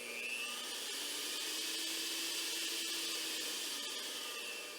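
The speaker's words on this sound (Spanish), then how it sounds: "vamos a conectar esta licuadora" A blender plugged into a homemade dimmer speed regulator whines steadily, its motor pitch rising gradually as the speed is turned up; loud and continuous with no talking.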